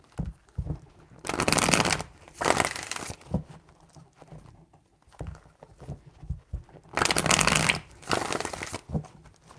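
Tarot cards shuffled in several crisp riffling bursts, each lasting about a second, with quieter pauses and soft handling between them, close and clear.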